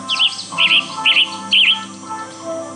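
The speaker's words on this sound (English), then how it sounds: "Western tanager." A western tanager call plays from a bird-song tape in the Nancy Drew game Ghost Dogs of Moon Lake: four short, burry chirping phrases in quick succession, clear and close over a faint steady hum.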